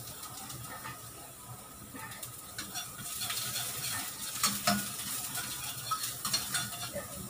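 Garlic sizzles and fries in a pan after a little ginger, with a utensil scraping and stirring in irregular bursts that grow louder toward the end, no voices over it.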